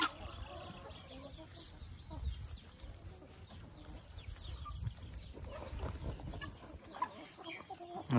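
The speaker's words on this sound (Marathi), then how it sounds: "हे बघा गिनी फॉल तुमच्याकडे काय म्हणते" Free-range poultry, including guinea fowl, call and cluck around a fenced village farm among coconut trees, with chirpy bird calls over a steady outdoor murmur at moderate distance.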